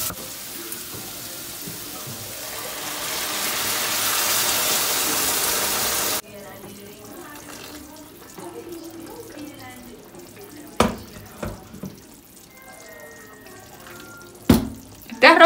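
Water pours loudly from a tap into a pot for cooking rice in a kitchen in Turkey for about six seconds, then stops, followed by quieter clinks and handling noises.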